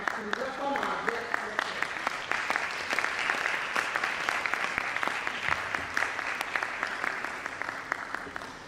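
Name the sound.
audience applause welcoming a scholar at a lecture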